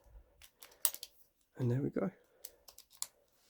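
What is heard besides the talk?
repaired key inserted and turned in lock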